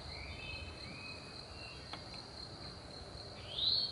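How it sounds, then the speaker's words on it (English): A small cricket in a raised vegetable garden bed gives a steady, high-pitched trill that runs the whole time. It is close but quiet and comes with faint outdoor background noise, with no talking. "Oh no, it's a little cricket."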